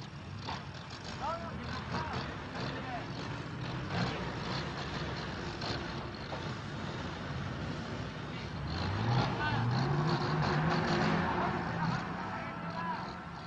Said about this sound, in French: Rien ne manque, ni les avions, ni les hélicoptères, ni les camions, ni les blindés.